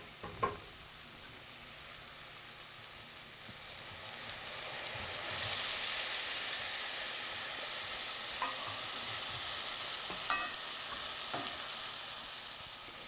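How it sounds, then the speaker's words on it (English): Leeks braising in a little chicken stock in a pan, a soft continuous sizzle and bubbling that swells midway, with a few scattered utensil clinks, close and fairly quiet. "I'm actually going to do what's called braising, which is cook with a little bit of liquid"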